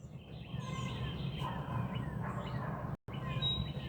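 Birds chirp and tweet outdoors in short scattered calls over a steady low background hum, with a brief dropout near the end.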